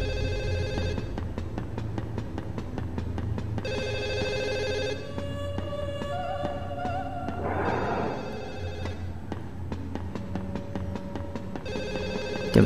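Telephone ringing in the Siren 2 horror game, a repeated bell-like ring in evenly spaced bursts over a low ambient drone, loud and close, with a brief noisy crash partway through.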